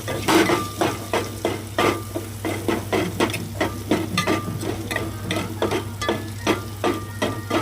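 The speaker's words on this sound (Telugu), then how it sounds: "కొంచెం కలపాలి ఒకసారి, ఇంకా ఫ్రై అయ్యేదాకా" A tomato and rice mixture fried in a pan while chili powder is stirred in: a rhythmic series of scraping clanks of a spoon against the pan over a constant sizzle and low hum, close and loud.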